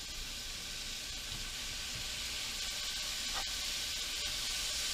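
Fresh oyster mushrooms sizzle in hot olive oil in a frying pan, a steady, bright hiss with faint crackles running unbroken and fairly close throughout.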